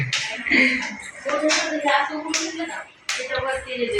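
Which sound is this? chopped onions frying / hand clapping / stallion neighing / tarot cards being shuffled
hand clapping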